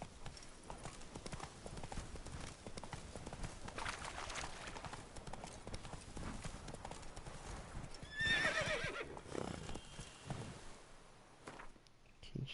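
Roach, the horse in The Witcher video game, trots with steady rhythmic clip-clop hoofbeats before letting out a short, clear neigh near the end, all fairly quiet and distant.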